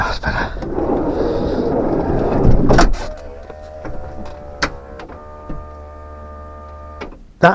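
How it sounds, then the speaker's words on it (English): A Mazda Bongo campervan door shuts with a thud, then its soft-close locking mechanism pulls it in with a faint motorised whine and hum lasting a few seconds, followed by small clicks in a quiet interior. "That noise is the soft locking mechanism for the door"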